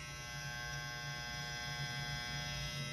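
A Babyliss SnapFX cordless hair clipper with a 7,200 RPM motor runs close and steady, giving a continuous even hum with no rattle and no talking.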